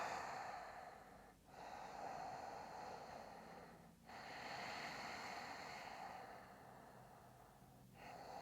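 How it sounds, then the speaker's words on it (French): Slow Ujjayi yoga breaths drawn through a narrowed throat, a soft hissing ocean-like rush that swells and fades in long cycles, with brief pauses between breaths, close and quiet. "on reste 8 cycles de respiration Ujjayi en regardant le bout de son nez"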